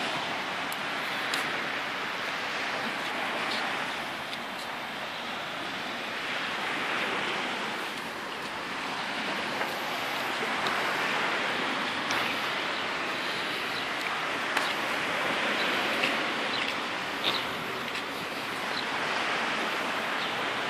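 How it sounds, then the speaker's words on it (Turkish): Sea waves at the beach in Aydıncık: a steady, loud wash of surf with wind rushing across the microphone. It continues throughout, with no talk. "Biraz dalga var."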